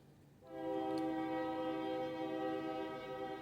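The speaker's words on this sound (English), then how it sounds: "let that train go by" A close, loud train horn blares as a train passes, a sustained multi-tone chord that starts abruptly and holds steady for several seconds over low rumbling rail noise, with no talking.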